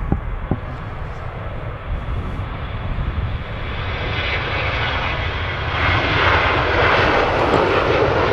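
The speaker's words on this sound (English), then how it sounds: "Goes the Jet 2" A Jet2 Airbus A321 airliner's jet engines roar loudly and steadily at Manchester Airport, a broad continuous rumble that swells toward the end as the aircraft passes.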